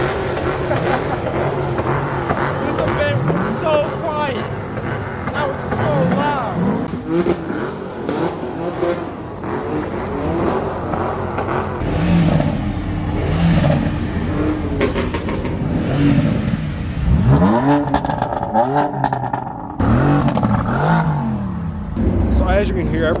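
Cars rev and drive off at an illegal night car meet, with loud engine roars and rising accelerations continuing throughout and people talking over them.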